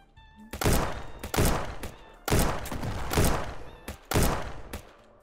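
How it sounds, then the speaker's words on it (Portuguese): Gunfire in CS GO played inside Streamer Life Simulator: several loud, close pistol-like bursts in an uneven rhythm, each booming and then trailing off. "E dei uns tiros no outro"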